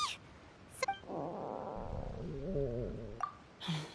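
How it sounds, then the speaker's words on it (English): A Genshin Impact character's stomach growls in a long, wavering rumble lasting a couple of seconds, bracketed by short game sound cues before and after. "That would be my stomach growling."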